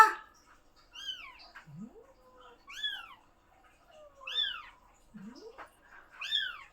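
A cat meows from a hiding place, giving about four drawn-out, rising and falling calls at a steady pace. Each call is fairly close and clear, with quiet gaps between them.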